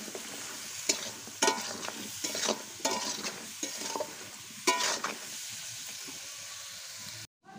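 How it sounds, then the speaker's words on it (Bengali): Pieces of pointed gourd frying in a pan with salt and turmeric, a soft steady sizzle broken by repeated scraping strokes of a stirring spoon. "দিয়ে পটলগুলোকে ভালো করে ভাজা করে নেব"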